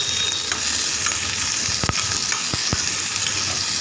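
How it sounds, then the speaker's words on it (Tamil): Onions lightly sautéing in hot oil in a kadai for an okra tamarind curry make a loud, constant sizzle, with a few sharp spatula knocks against the pan. "இப்போ வெங்காயத்தை லைட்டாக வதக்கி விட்டு"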